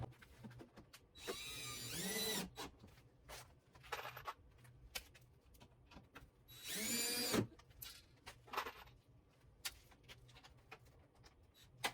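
A power drill whirs in two short close bursts driving screws into a vintage camper, separated by clicks, taps and handling noises in an otherwise quiet space.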